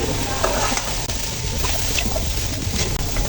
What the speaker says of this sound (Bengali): এইগুলো অনবর্ত এভাবে নেড়ে চেড়ে দিতে হবে